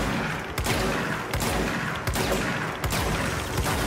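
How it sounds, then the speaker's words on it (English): Repeated shotgun blasts and chaotic gunfire crash through a combat scene in the action game Control, several loud, dense bursts landing about every second or so amid a constant roar of fighting. "this shotgun's coming in handy"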